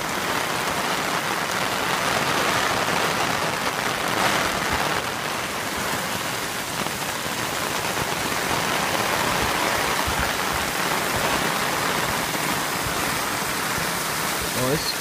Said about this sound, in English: It's rain, buddy.